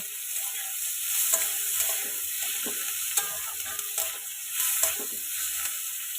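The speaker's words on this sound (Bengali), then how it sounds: "আর একটু ভাজা ভাজা করে নেবো" Onion, tomato and green chillies fry in fish oil in a kadai, a close steady sizzle broken by stirring scrapes and a few louder knocks of the spatula, with no voices.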